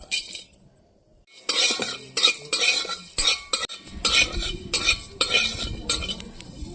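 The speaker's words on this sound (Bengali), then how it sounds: "কড়াইয়ে এই মশলাগুলোকে এখন আমি ভেজে নেব" Whole spices stirred in a kadai with a metal spatula, giving a quiet opening and then irregular scraping and clinking bursts close by, with only faint frying beneath.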